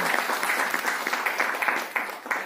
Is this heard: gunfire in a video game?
no